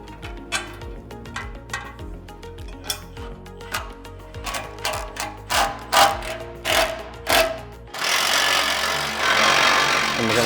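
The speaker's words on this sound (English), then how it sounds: "we're gonna tighten the 3 bottom bolts" Bolts on a SuperATV winch-ready front bumper being tightened on a Kawasaki Mule Pro FXT, a run of rhythmic ratcheting clicks and knocks, then a steady power-tool whir near the end.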